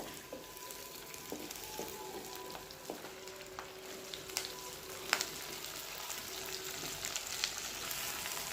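Drumstick leaves sauté in a pan for village-style kootan soru, a steady soft sizzle and crackle with occasional stirring scrapes and clinks, fairly quiet and close, with no voices.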